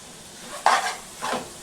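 Spoon stirring prawns and ridge gourd with spices in a pan, two short scraping strokes with a faint sizzle, close and alone without talk.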